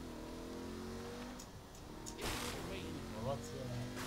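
Car accelerating in the video game Saints Row: The Third, a steady engine drone rising in pitch with a louder surge midway, heard under talking voices.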